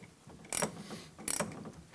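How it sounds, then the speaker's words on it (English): A gear wrench slowly ratchets while tightening a nut on a shock absorber piston rod during a Toyota Tundra suspension install, two short clicking bursts, close and fairly quiet. "Lock down on it, use your gear wrench"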